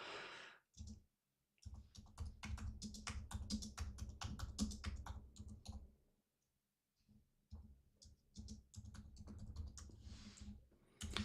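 Rapid typing on a computer keyboard, dense bursts of close clicking keystrokes separated by short pauses, faint and without talk.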